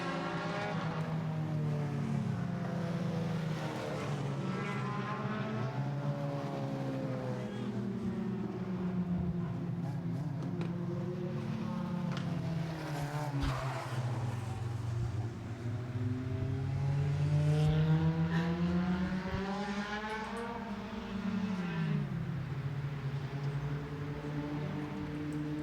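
Stock cars roar around Lee USA Speedway in a heat race, a loud, continuous pack of engines whose pitch rises and falls as they accelerate and lift, with brief dips as cars pass.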